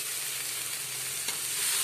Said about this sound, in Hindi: ये सारी सब्जियां इसमें ऐसे ही हमने ना साथ ही साथ फ्राई कर लेंगे